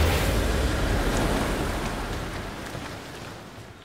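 Heavy ocean waves surge around a sinking boat at sea, a dense continuous roar of surf and wind that fades gradually over the few seconds, with no voices.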